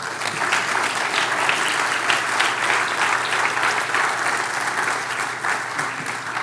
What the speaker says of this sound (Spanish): ¿No le das un aplauso al Señor por eso?